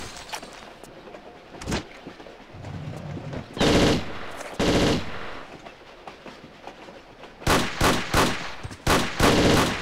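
Rapid gunfire from a Tomb Raider level editor game, with several loud bursts of repeated shots broken by short gaps and a quieter ambient stretch between them, and no talking.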